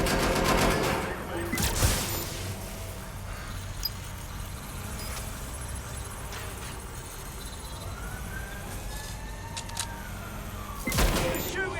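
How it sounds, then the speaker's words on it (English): Rapid bursts of automatic gunfire in the Watch Dogs video game, dense and continuous under a busy mix, with louder crack-like hits near the start and near the end. "They're shooting at us."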